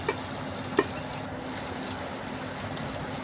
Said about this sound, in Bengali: এরপর তেলের মধ্যে পেঁয়াজ কুচি দিয়ে দিলাম